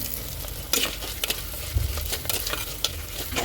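Onions with rock salt sizzle steadily in a hot pan while a spoon scrapes and stirs them in irregular bursts, close and fairly loud, with no talking.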